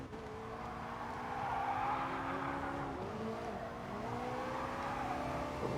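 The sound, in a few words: race car driving in Gran Turismo Sport video game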